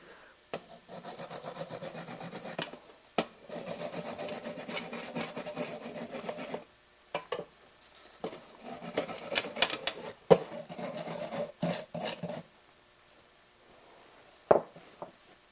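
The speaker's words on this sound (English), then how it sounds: "use a wire brush, too" A wire brush scrubs a router bit in a workshop, the bit not soaked beforehand; bursts of dry, raspy rubbing come in several close strokes separated by short pauses, with a few sharp clicks near the end.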